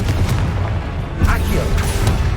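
A Confringo blasting spell exploding in the Hogwarts Legacy video game: a short, deep boom with crackling bursts amid busy combat noise, no voices.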